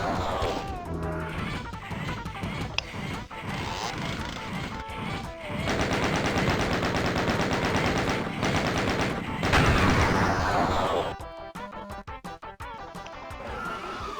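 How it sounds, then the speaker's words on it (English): A chain gun fires in DOOM at arachnotron spider demons, loud continuous rapid bursts of gunfire with crashing impacts and explosive game effects piling up near the end. "Let's go ahead and try to stun lock them with a chain gun"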